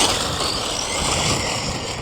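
Rlaarlo 1/7 EVO 6S RC car driving without gyro, a loud continuous electric motor whine with broadband wheel and surface noise, steady and close throughout.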